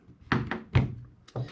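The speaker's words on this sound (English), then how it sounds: "So bolt release, basically lets the bolt go forward." A Winchester SX4 shotgun handled during disassembly, with several close, sharp metallic clacks and thunks in quick succession as the bolt is released and slams forward.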